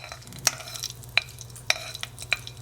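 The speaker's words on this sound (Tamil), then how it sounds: "நல்லா கடுகு பொரியட்டும். பொரிஞ்சதும் வெங்காயமும் நம்ம தேவைக்கு போட்டால் போதும்." Mustard seeds and onion fry in oil in a pan for a butter bean poriyal, a low steady sizzle with a few sharp clinks of a spoon against the pan.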